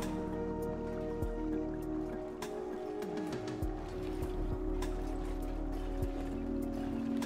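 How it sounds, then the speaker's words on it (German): Rain falls in the video game Endzone - A World Apart as a soft, steady patter of drops with scattered drips over a constant low background hum, fairly faint and without talk. "Ah, der Regen. Ah, der erlösende Regen."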